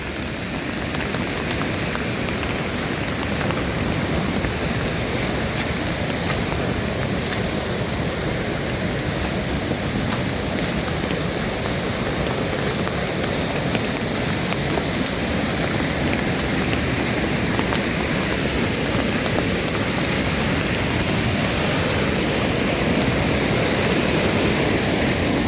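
Heavy rain pours down in a dense, unbroken hiss that stays loud and even throughout, with no voices or other sounds rising above it.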